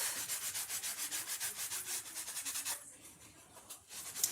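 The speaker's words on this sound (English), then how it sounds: "I'm just going to rub it on. And then I'm going to turn it the clean side and buff it off." Cloth rubbing and buffing on a wooden farmhouse door hanger, with a steady rhythm of close, brisk strokes that stops partway, leaving quieter scattered rubs.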